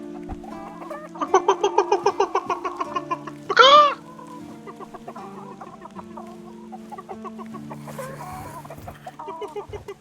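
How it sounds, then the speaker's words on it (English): A chicken in the Tainted Grail: Fall of Avalon video game clucks in a rapid run of pulses, then gives a louder squawk, followed by softer scattered clucks over ambient game sound. "Oh, a chicken!"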